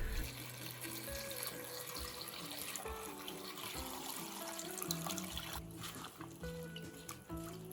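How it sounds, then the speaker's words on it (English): Water from a tap pouring over dry onion skins in a pot, a steady quiet stream with gurgling and trickling that carries on unbroken, close by and without voices. "pour water over the onion skins until it completely covers them"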